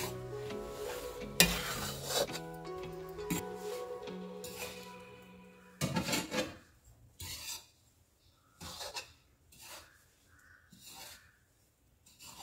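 Flour being stirred and roasted in a kadhai for sothaura laddoos, a close, uneven scraping and rasping with bursts of clattering, fading to quieter intermittent stirs with pauses.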